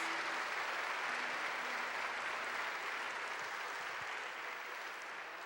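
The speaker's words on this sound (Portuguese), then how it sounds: "Uma salva de palmas para Jesus." Church congregation applauding at an evening miracle service, a steady wash of many hands clapping together at even loudness throughout, with no talking over it.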